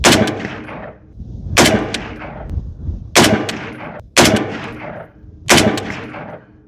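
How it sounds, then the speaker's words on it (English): Five loud, sharp gunshots from an FN SCAR 17 .308 battle rifle fire at uneven intervals of roughly a second or more, each blast followed by a fading outdoor echo. "I definitely pulled that shot."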